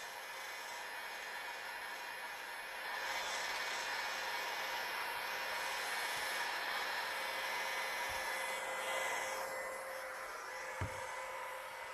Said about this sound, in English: with my heat gun on the full setting